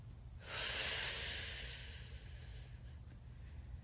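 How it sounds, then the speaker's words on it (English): A single long breath during a plank exercise: a strong airy rush that swells quickly, holds, then fades over about two seconds, close and breathy against a low background hum. "Inhale, exhale."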